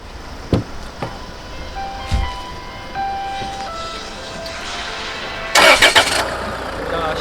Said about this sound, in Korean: 일단 시동 소리 한번 들어보시죠